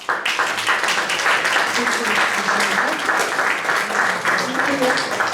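A crowd claps steadily in sustained, dense applause, loud and close, with a few voices faintly mixed in.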